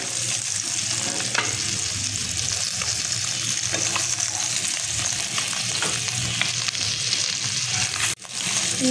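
Fish frying in hot oil, a steady loud sizzle and crackle running throughout with a brief dip near the end, no voices.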